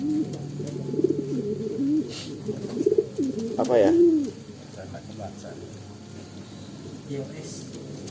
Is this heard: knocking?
no